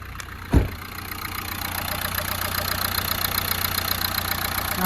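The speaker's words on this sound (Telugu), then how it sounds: "ఇంజన్ కూడా చాలా స్మూత్ ఉంది సార్, బాగుంది బండి" A 2015 Renault Lodgy RXZ diesel engine idles steadily with a rapid, even clatter at close range, after a single sharp knock at the start.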